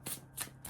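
A deck of tarot cards being riffled and shuffled close by, three quick crisp bursts of papery flutter in steady rhythm, with no voices.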